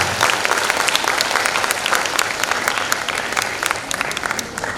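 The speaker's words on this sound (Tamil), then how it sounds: "கவிதைக்கு நீங்கள் கைத்தட்டல்களை அதிகரிக்கலாம்" An audience at a Tamil poetry recital in a school festival claps loudly and steadily, dense applause filling the hall throughout.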